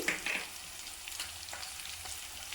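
Capsicum and chopped green chilli fry in a pan of oil for an egg Manchurian, giving a steady close sizzle with faint stirring scrapes and no voices.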